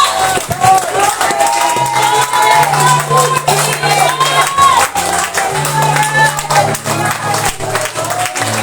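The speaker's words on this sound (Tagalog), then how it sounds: "Malakas na palakpak para sa Diyos na buhay!" A church congregation applauds loudly during worship, a dense continuous clapping crowd blended with cheering voices and a low musical drone underneath.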